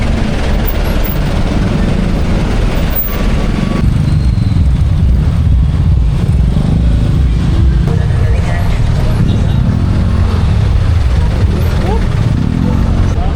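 Heavy Sunday road traffic in Manila makes a dense, loud, continuous rumble of buses, cars and motorcycles close by, with engines idling and moving throughout.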